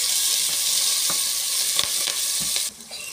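A pan of caramelizing onions with garlic and minced chilli crackles and hisses as a spoon stirs it, a few sharp scrapes, the sizzle dropping near the end.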